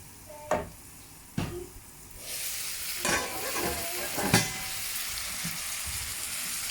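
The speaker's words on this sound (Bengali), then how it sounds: "এখন এটা আমি নেড়ে আরও কিছুক্ষণ জাল দিয়ে তারপর ডিমটা আমি দিব।" A dish of cow brain with onion, chilli and tomato fries in a pan, with several sharp scraping stirs over a steady sizzle that builds and keeps going, close and moderately loud.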